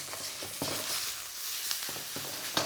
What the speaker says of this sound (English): then lay your meat into the wok